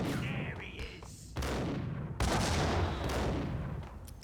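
A grenade goes off in the Max Payne video game: two loud, broadband blasts land in quick succession, each trailing into a sustained rumble, amid scattered gunfire and game noise.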